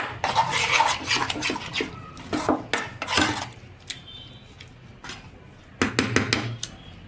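A whisk scrapes and clatters rapidly against a bowl of semolina batter in quick bursts, pausing briefly before another burst of stirring.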